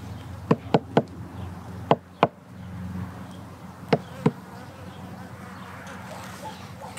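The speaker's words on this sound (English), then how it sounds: "There are bees in there." Low, steady buzzing of bees inside a hive during spring farm chores, with a few sharp knocks or clicks on the hive box standing out over the hum.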